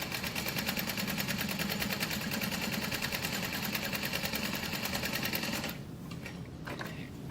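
Sewing machine backstitching the card slots of a leather clutch wallet: one steady, rapid stitching run of about five seconds that then stops, close and fairly quiet, with no talk.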